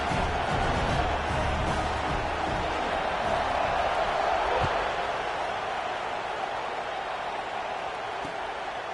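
Before kickoff at a UCLA versus USC college football game, the stadium crowd makes a broad, steady roar of distant voices and noise that fills the whole stretch.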